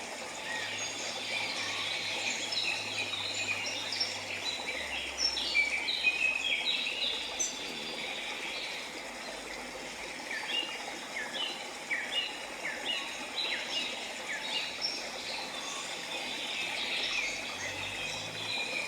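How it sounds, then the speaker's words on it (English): Many small birds chirp and twitter continuously at a distance, a dense, high-pitched chorus over a soft, steady ambient hiss. "The sound of the birds almost feels hypnotic."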